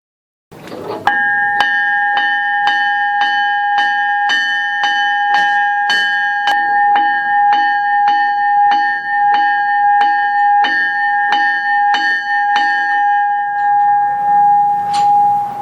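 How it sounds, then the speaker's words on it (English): The bell of a Union Pacific DDA-40X Centennial diesel locomotive on display at a St. Louis transportation museum rings loudly and steadily, about twenty evenly spaced metallic strikes with a sustained ringing tone that lingers after the last stroke. "you can even ring the locomotive's bell."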